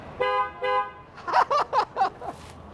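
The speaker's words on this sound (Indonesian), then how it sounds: "Dan yang paling penting adalah klaksonnya sekarang bunyinya." A Toyota GR Yaris horn sounds two clear, even honks, followed by a quick run of five shorter, brighter beeps, loud and close with no talking.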